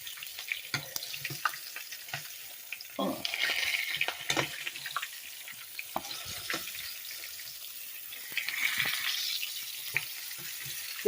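Fresh catfish fillets frying in a pan and being flipped with a utensil, a soft sizzle under sharp clicks and scrapes, with two brief swells of louder frying as the pieces are turned.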